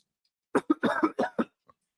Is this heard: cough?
yes